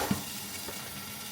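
Vegetables dropped into a hot oiled pan, a brief soft thump followed by a faint, steady sizzle with no voices.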